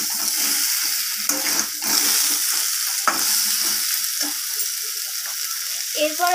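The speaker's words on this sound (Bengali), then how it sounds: "তো মশলাটা দেওয়ার পর আমি একটু নাড়াচাড়া করে নিচ্ছি যাতে না নিচের দিকে পুড়ে যায়" Spices frying in a pan for a vegetarian Bengali curry, a steady loud sizzle with scraping stirring strokes and clinks of the spatula throughout.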